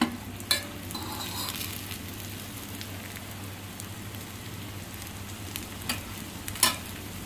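Ragi keerai adai, a finger millet and greens flatbread, cooks in gingelly oil on a hot tawa with a steady, soft sizzle and a few sharp pops and crackles close by, and no one speaks.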